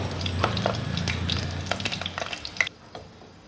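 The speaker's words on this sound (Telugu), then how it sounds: "వేడెక్కినాక ఒక 4 ఎండుమిరపకాయలు వేసుకొని కొంచెం ఫ్రై అవ్వాలి" Four dry red chillies fry in hot oil in a clay pot with a crackling sizzle and scattered pops. The sound is close and moderate and drops to a faint hiss at the end.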